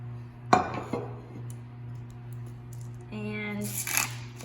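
Vegetables dropped into a pan, with a sharp clattering impact of pieces on metal followed by quieter scraping and a later clink, all over a low steady hum with a bit of background voice.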